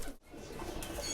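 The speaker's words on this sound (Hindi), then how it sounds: "ये तमाम अंबर सिरे कबूतर है" Amber Sire pigeons coo softly in a loft, a low rolling murmur heard close, with a brief break in the sound near the start.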